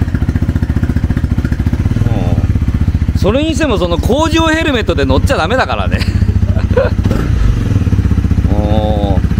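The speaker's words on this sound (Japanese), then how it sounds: "ちょっと、またがってエンジン始動してみてくださいよ" A Honda CB250F motorcycle engine idles steadily and loudly right after starting, with an even low rumble running under people chatting nearby.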